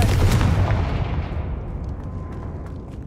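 The Confringo blasting spell explodes in the video game Hogwarts Legacy: one loud, close, booming blast with a long rumbling decay that fades over about three seconds.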